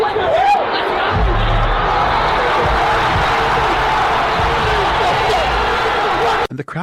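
A wrestling crowd at the Royal Rumble roars and cheers as IShowSpeed enters, a dense, loud, sustained arena din with a commentator talking over it before a sudden cutoff at the end.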